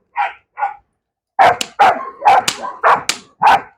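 A dog barks during guard dog training: two short yips, then a pause and a rapid run of loud, close, sharp barks, about six in quick succession, with no talking.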